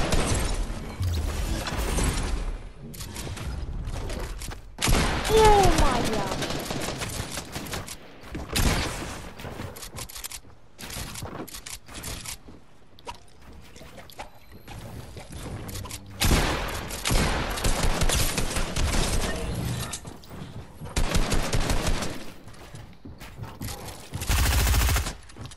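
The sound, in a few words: gunfire from the player's shots in a video game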